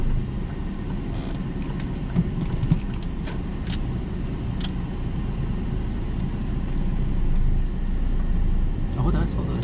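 A small car moves forward during a driving lesson, a low steady engine and road rumble inside the cabin with occasional clicks and rattles, and people talking over it.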